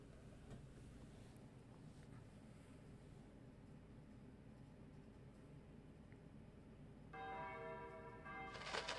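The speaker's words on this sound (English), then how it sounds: "The rolling sound of bells." Rolling bells in a video game rise out of a faint, hissing, windy background, with clear bell tones swelling in near the end.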